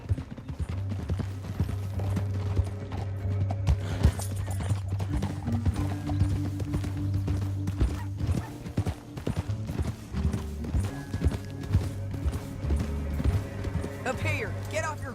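Hooves clatter in a fast galloping rhythm in the video game Red Dead Redemption 2, loud and continuous, with a horse whinnying and voices speaking over the racket and a low musical drone.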